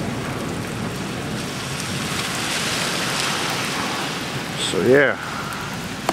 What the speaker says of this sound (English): Hear the thunder.